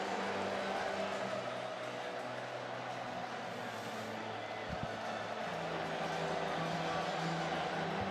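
Steady crowd murmur fills a baseball stadium during a Texas Rangers at Boston Red Sox game, a dense, even wash of distant voices with a brief low thump near the middle.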